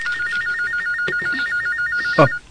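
A telephone rings with a warbling electronic trill that runs steadily for about two seconds, then stops; a few faint background clicks sound beneath it.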